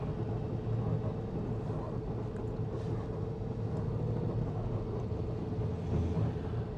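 Traffic on a main road in Paphos makes a low, steady, fairly faint rumble that carries on without a break and without voices.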